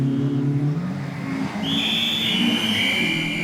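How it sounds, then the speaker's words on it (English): A Talbot Sunbeam rally car competing in the 1986 RAC Rally passes by, its engine note rising and shifting in pitch as it goes through a bend, loud and continuous with a whistling high tone in the second half. "Car 56, the Talbot Sunbeam of David Rastall."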